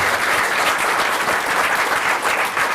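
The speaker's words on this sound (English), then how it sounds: "So please give a round of applause for Max and Joan." A master-class audience applauds for two performers, dense steady clapping filling the room, loud and close, with no talk over it.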